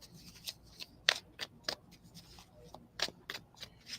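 Tarot cards being shuffled by hand, quiet irregular riffling and flicking with sharp little snaps scattered through a soft, close-up background.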